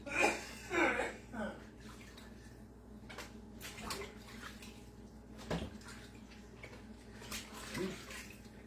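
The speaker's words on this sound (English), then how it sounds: "I am washing up collards, getting them ready to cook" Collard greens being washed by hand in a sink of water, with intermittent splashing and sloshing bursts up close and quieter dripping between them.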